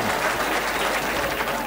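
Loud, dense applause from a large audience at a Delhi mushaira poetry gathering, a steady unbroken wash of clapping with crowd noise mixed in.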